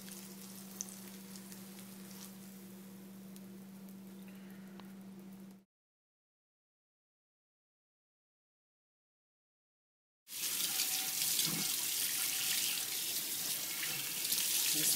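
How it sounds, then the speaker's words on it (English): Cold tap water runs over a Bialetti Aeternum saute pan in a kitchen sink, first a steady hum, then a break of silence, then a loud, bright rush of water splashing onto the pan. "I'm rinsing it with cold water right now."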